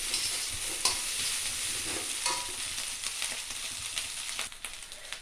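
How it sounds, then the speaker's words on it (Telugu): Cooked rice being stirred into fried egg in a pan, a steady sizzle with repeated scraping and stirring strokes, close and continuous, with no talking. "ముందరగా మనం ఉడికించి పెట్టుకున్న రైస్ ఇది బాగా కలుపుకోవాలి."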